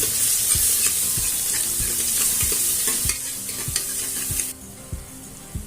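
Ginger, garlic and coriander paste sizzles steadily in a hot pan for paya soup, with repeated scraping strokes of a spoon stirring it; the frying hiss drops off near the end, leaving softer stirring.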